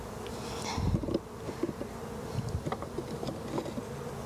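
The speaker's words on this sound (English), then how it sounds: "There are all kinds of bees in here that shouldn't be" A dense, steady buzzing of many honeybees close by at an open hive during an inspection, with a louder swell near the start and scattered knocks and clicks throughout.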